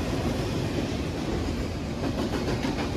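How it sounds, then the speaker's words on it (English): A loud freight train rolls past close by, including FEC locomotives, with a continuous heavy rumble and the rhythmic clack of wheels over rail joints, with no voices. "I'm trying to talk to him over this damn train. This thing's loud."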